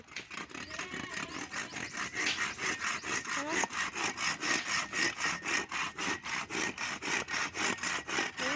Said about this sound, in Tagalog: Ito yung dalawa rin naglalagari.